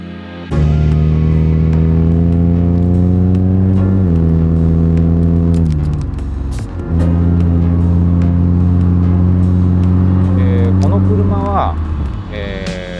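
A 1995 Honda Accord Wagon CE1 2.2VI, set up in North American LX spec, drives along with a loud, steady engine drone whose pitch climbs and resets with gear changes, while someone talks over it.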